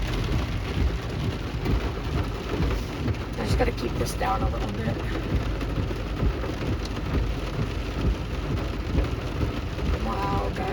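Heavy rain pounds steadily throughout a severe thunderstorm, with low rumbles of thunder rolling underneath, while someone speaks briefly over the downpour.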